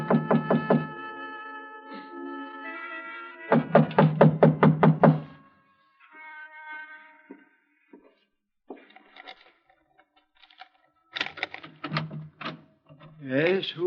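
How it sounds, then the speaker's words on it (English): Someone raps on a locked front door late at night, a short series of firm knocks between bursts of music and voices speaking. "I tried the front door, but it was locked. I didn't think anyone would be there that late, but I knocked anyway."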